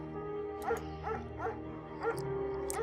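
A shepherd dog in the video game Firewatch gives a short run of soft, close barks and yips, about five in under three seconds, over a steady hum of game music.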